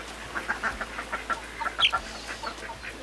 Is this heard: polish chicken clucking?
yes